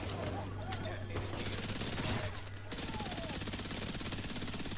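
Gunfire in The Division 2 during a PvE Dark Zone session: a steady stream of rapid weapon reports with mixed game effects, continuing throughout at moderate level.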